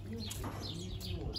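An unfamiliar bird at a seaside holiday spot in Russia gives short chirping calls close by, mixed with nearby voices of people talking.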